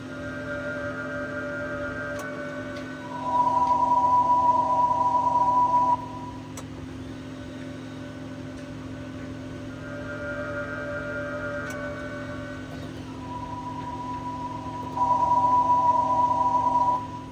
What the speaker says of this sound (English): Okay, so they both make a humming noise from the outside because they're hybrids.